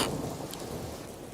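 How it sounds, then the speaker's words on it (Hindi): Steady rain falls with a low rumble of thunder rolling underneath, a dense continuous wash of noise and no voices. "एक तो बारिश हो रही है, सारी लकड़ियां भीग गई हैं।"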